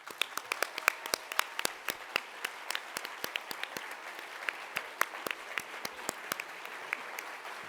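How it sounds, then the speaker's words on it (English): At a recycling conference plenary, a modest audience applauds the volunteers and staff, giving a sparse, quiet patter of claps with sharp individual hand strikes popping out steadily for several seconds. "I'd like everyone to give you a huge applause"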